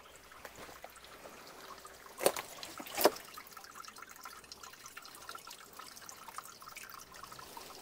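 A thin trickle of water runs inside a grotto, a faint continuous splashing and dribbling heard up close, with two brief louder clattering bursts early on.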